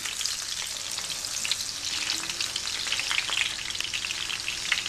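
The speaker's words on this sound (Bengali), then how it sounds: "আমি মাঝামাঝি হিটে কোফতাগুলো ভেজে দিচ্ছি" Pungush fish koftas sizzle steadily in hot oil in a pan over medium heat, a continuous close crackle with fine spitting pops throughout and no talking.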